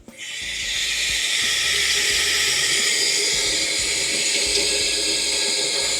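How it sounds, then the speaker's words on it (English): Water runs from a kitchen tap in a steady, loud, close hiss that continues throughout with no talking. "I'm gonna run my water."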